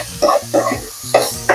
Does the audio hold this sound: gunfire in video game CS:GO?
no